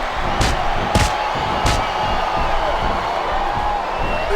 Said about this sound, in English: these superstars are getting some feedback from the crowd, JR.